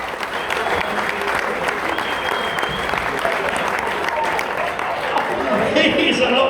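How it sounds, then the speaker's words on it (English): An audience at a live comedy show gives steady, loud applause for Smarcus, a volunteer brought up to help, with crowd voices and talk mixed into the clapping. "Round of applause for Smarcus,"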